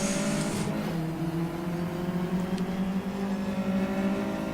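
Race car engine in the rFactor racing game revs hard in first gear after too many downshifts, a loud steady high-pitched drone with continuous engine harmonics throughout.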